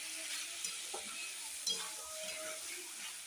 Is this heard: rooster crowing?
no